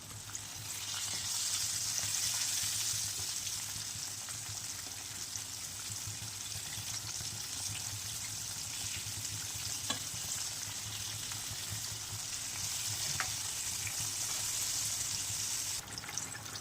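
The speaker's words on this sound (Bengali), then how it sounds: "আমি এক একটা মাছের পিসকে প্রায় 2-3 বার ধরে উল্টিয়ে উল্টিয়ে ভেজে নিয়েছি।" Fish pieces fry in hot oil in a pan, a steady soft sizzle and crackle that hisses continuously throughout, faint and even, with a few small clicks and no voices.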